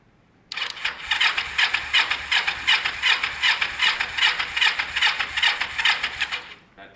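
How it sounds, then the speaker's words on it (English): A Kawasaki ER5 twin-cylinder motorcycle, freshly carb-cleaned and started with the choke on, cranks and catches, then runs roughly with loud, uneven pulsing beats before cutting out, its cylinders not firing together smoothly. "This bike fires on the left cylinder only, and it fires on the right cylinder only, but it won't fire both together smoothly."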